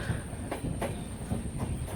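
A passenger train runs along the tracks with a steady rumbling roll, rhythmic wheel clacks and a faint thin squeal, heard from close by with no talking.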